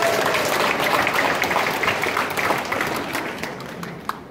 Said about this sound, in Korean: 참가하신 모든 팀이 우수한 성적을 얻을 수 있도록 경의의 박수 부탁드립니다.